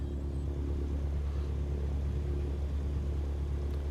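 Light aircraft engine in a flight simulator holding a low steady rumble around 1,000 RPM while taxiing, a constant droning hum with no clear rise, fairly quiet and with no talk.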